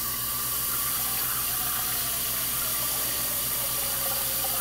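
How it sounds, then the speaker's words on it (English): Steady rush of running water pouring into a steamer pot, continuous and close, with no voices. "We put some water in here."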